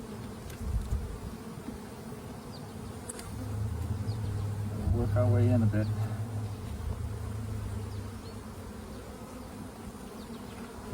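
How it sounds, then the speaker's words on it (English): Honey bees buzz around hive frames close by, a swelling drone in the middle, with a person speaking quietly over the hum. "More bees on this frame."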